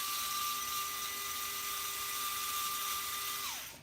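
A hand drill whirs steadily at a high, even pitch while taking hardware apart, running close and alone for several seconds before spinning down at the end.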